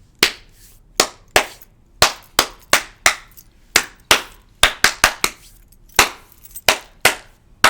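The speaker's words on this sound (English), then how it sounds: "It comes a slower, cooler clap." A single person claps hands slowly and unevenly, about fifteen sharp, close claps spread over several seconds with gaps between them, no voices.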